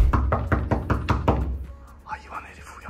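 A fist knocks hard on a hotel room door about eight times in a quick, steady run of loud, close thuds, followed by voices talking.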